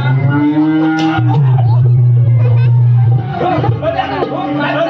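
A water buffalo lows loudly and close by in a long, deep sustained call, followed by a second bellow, as people talk and chatter around it.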